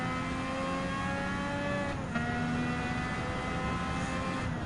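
A classic Honda RA272 F1 race car in Gran Turismo 7 screams at high revs. The engine holds a steady whine, dips briefly as it shifts, then climbs again, loud and close.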